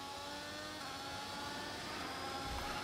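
Racing car engine in a video game, played via a Hall effect controller trigger, sustains a dense, steady high-rev roar at full throttle, loud and continuous with no talking.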